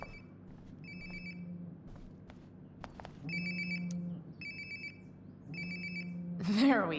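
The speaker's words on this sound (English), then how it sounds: "Sounds like my phone is definitely nearby." A cellphone rings nearby in the video game Life is Strange: Before the Storm, its repeated double-chirp bursts coming in regular cycles over a low background hum, with a brief sweeping noise near the end.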